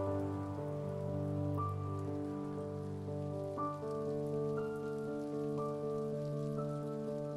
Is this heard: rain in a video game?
yes